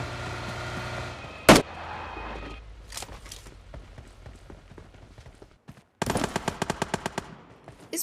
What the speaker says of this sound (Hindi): इस बॉट को मैं जैसे ही मारता हूँ सामने से फायरिंग की आवाज़ आती है